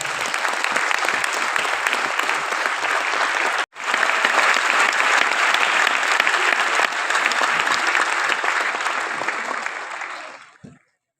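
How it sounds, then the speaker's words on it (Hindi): Loud, dense applause from an audience at a business training session fills the room. It stops for an instant, then surges back steadily and fades out at the end. "जोरदार तालियां"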